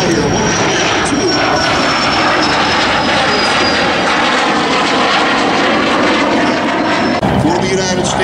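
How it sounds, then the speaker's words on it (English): Warbird propeller airplanes flying past at the Sun 'n Fun airshow, a loud continuous engine roar with a slowly shifting whine, as an announcer talks over it. "as these airplanes come by here"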